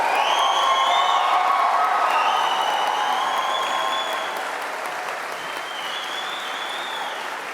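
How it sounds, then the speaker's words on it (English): Graduates and guests at a university graduation ceremony in a chapel give a loud, sustained round of applause, with scattered cheers and whoops, easing slightly toward the end. "let's have a big round of applause"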